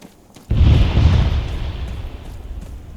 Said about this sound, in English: What are these explosions?